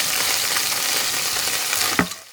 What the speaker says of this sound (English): The sound of frying fat is very soothing.